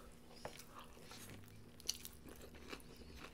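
Close, quiet crunchy bites into Chipotle spring rolls dipped in salsa, with soft chewing and a few crisp crackles, no talking.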